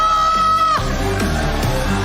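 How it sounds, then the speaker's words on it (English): A loud arena crowd yells and cheers at an esports world championship grand final between Indonesia and the Philippines, a dense, roaring wall of voices rising after a sustained tone fades out. "give them a round of applause!"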